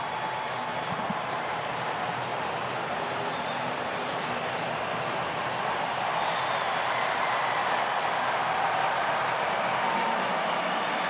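A big crowd at a Major League Baseball game between the Chicago Cubs and Texas Rangers roars in a sustained, dense wash of cheering as the wave sweeps through the stadium, swelling slightly louder toward the end.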